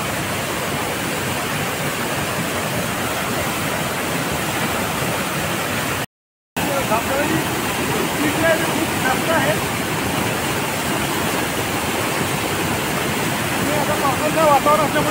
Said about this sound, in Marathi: धबधब्याने खूप पाणी वाहत आहे.